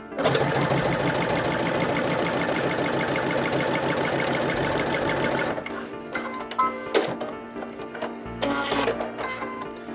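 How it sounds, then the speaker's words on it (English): A home sewing machine runs at a fast steady stitching rhythm for about five seconds through four layers of faux leather vinyl, then stops, leaving faint clicks and handling noises. "I'm going to sew this, and on the 4 layers."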